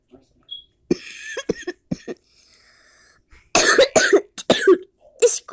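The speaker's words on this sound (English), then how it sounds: "This cough is killing me." A sharp cough rings out in an animated scene, followed by bursts of speech and another voice answering; the cough is likely voiced by an actor.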